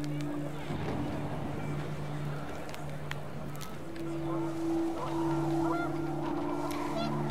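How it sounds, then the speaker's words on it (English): Panicked geese in What Remains of Edith Finch honk steadily in a dense, overlapping flock over a rushing wind bed, the calls near and continuous throughout. "The wind picked up, and panicked geese appeared and quickly went"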